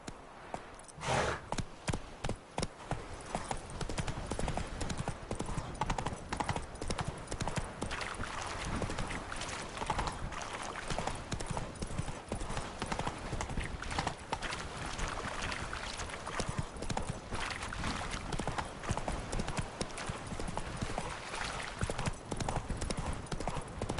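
Horse hooves gallop in The Witcher 3: Wild Hunt, a rapid steady clip-clop rhythm going on without a break, with wind and ambient game sound underneath.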